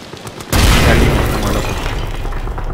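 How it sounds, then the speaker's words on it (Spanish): A grenade detonates in the horror game Amnesia: The Bunker after a brief quieter moment, a sudden loud broadband boom that rolls into a sustained rumbling roar and slowly settles over the next couple of seconds. "vamos a aventarle la granada"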